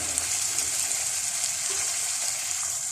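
Radish and spinach being stirred as they fry in a pan, a steady broadband sizzle holding at an even level throughout, close and continuous with no voices.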